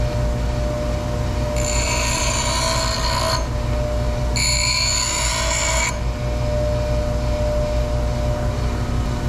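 A DeWalt bench grinder runs with a steady hum while 5/16 steel key stock is pressed to the wheel in two loud, harsh grinding bursts, the first about two seconds and the second slightly shorter, with the motor droning between them.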